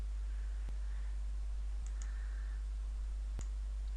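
A single faint computer mouse click sounds against a quiet background, with a second soft click later.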